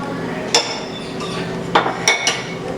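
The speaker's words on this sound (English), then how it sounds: "transfer this beautiful spice blended curry into a beautiful bowl" Spicy South Indian meatball curry being moved into a bowl, with several sharp clinks of a spoon against dishes spread over a few seconds, clear and close against a quiet kitchen background.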